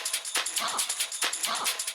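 A looped drum break plays twice with punchy kicks, crisp snare hits and bright cymbals, overlaid with a strange yelping vocal chop, fairly quiet.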